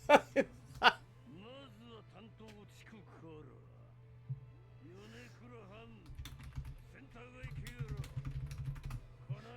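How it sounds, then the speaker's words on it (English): Light keyboard clicks are heard on a computer keyboard during a streamed session, a scattered clatter that becomes busier toward the end, sitting under frequent chuckling and talk. "I haven't typed on this keyboard in so long that it feels weird to me now."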